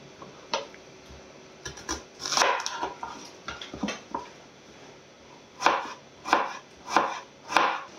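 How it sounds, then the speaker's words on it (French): A knife slicing two shallots into thin strips on a cutting board, with close, crisp chops in an irregular run that settle into four evenly spaced strokes near the end. "On va découper deux échalotes en fines lamelles"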